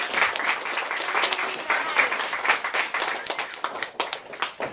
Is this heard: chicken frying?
no